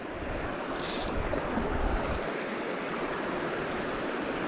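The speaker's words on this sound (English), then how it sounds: "Yeah, just this little waterfall behind the log that's going" Small waterfall in an Alaskan creek, a steady loud rushing and splashing of water that holds constant throughout, close by and alone with no voices.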